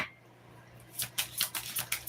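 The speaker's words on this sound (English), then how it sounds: "We're going to use this deck shuffles better than the other one." A tarot card deck is shuffled up close. After a near-silent start, a quick run of crisp, papery riffling bursts follows, each one short and sharp.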